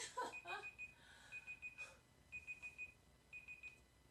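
A timer alarm beeps in short repeated bursts, a steady electronic pattern of pulses with faint background noise and no talking.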